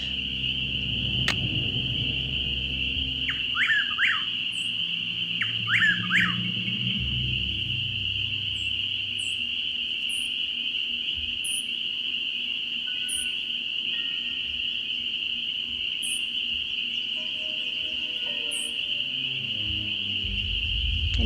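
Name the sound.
crickets chirping in Nancy Drew video game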